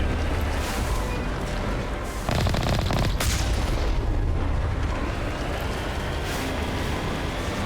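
Cannon fire in Mass Effect Legendary Edition during a Covenant attack: a couple of heavy, noisy blasts burst out over a dense, rumbling battle backdrop.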